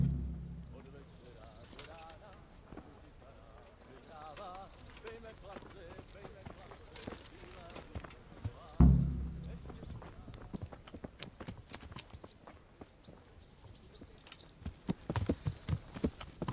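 Horse hooves clip-clop in the Kingdom Come Deliverance video game, a run of soft rhythmic hoof steps that quicken after a thud, mixed with game speech and ambient sound.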